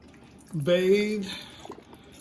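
Water poured across the cooktop of a 17-inch Blackstone E-Series griddle to rinse it after a first cook of eggs and bacon, a brief close splash and trickle lasting under a second.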